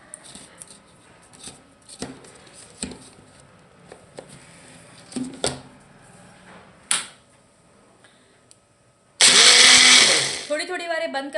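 A kitchen blender whirs loudly for about two seconds near the end, blending Jain vegetarian mayonnaise with sugar, lemon juice and salt, after scattered clicks, taps and handling knocks.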